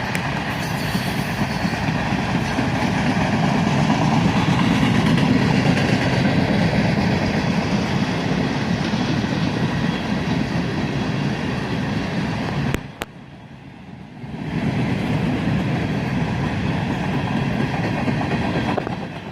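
A long freight train of flat cars riding on three-axle trucks rolls past close by in Carlisle, a continuous heavy rumble and rattle that dips briefly to near quiet before resuming just as loud.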